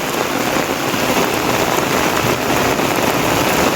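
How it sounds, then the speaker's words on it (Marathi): Cloudburst rain pours down steadily over farm fields in Manegaon, Madha taluka, a dense, loud hiss of drops drumming on surfaces with no pauses and no voices. "अतिशय जोरात पाऊस चालू आहे"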